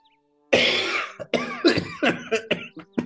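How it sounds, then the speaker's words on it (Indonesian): Several close, rough coughs come in quick succession after a moment of near silence, with the last few shorter and choppier. "Mohon izin batuk."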